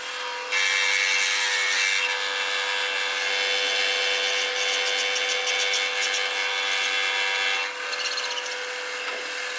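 A milling machine cuts the edges of metal strut top brackets continuously with a high, whining screech that stays steady for several seconds before briefly changing pitch near the end.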